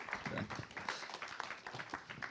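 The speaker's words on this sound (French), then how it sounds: "Oui, on peut les applaudir, les encourager après le café." A conference audience applauding speakers at a talk on digital ethics and the environment, a quiet, dense patter of many hands clapping at a distance, with faint voices mixed in.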